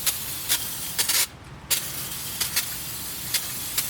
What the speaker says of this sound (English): I'm just going to spray this whole assembly down with brake cleaner.